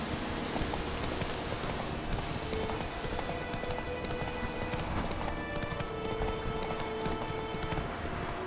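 Roach, a horse in the video game The Witcher 3, gallops with a steady, close, rhythmic clip-clop of hooves over a dense wash of ambient noise.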